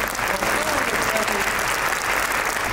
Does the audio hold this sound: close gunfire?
no